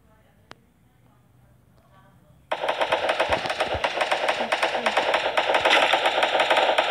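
Rapid automatic gunfire from the video game Free Fire bursts in loudly after a quiet start and continues as a dense, sustained rattle to the end, with a player's voice faintly underneath.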